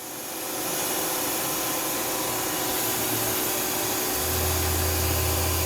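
A 2011 Tsugami S206 Swiss-type CNC lathe runs its main spindle at 2,500 RPM, giving off a steady, even whir with a low hum that rises in the last second or two.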